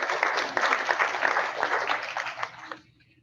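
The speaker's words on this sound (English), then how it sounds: "Big round of applause for you all for coming out tonight and seeing each other." An audience at an evening medical education event on corneal crosslinking applauds, a dense burst of clapping that holds steady for over two seconds before stopping abruptly, leaving quiet room tone.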